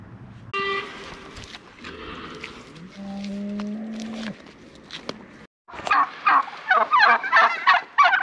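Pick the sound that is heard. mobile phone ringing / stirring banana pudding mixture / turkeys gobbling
turkeys gobbling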